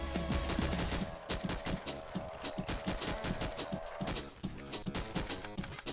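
Rapid bursts of video game gunfire in Atomic 79 with reloading clicks, dense rattling shots filling the clip, briefly pausing before resuming.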